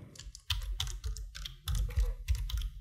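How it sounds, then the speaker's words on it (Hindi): Quick bursts of keystrokes clatter on a computer keyboard while text is typed, with several clusters of crisp, close clicks separated by short pauses. "क्लिक करेंगे यहाँ पे और टाइप करेंगे कुछ भी जो भी आप चाहते हैं"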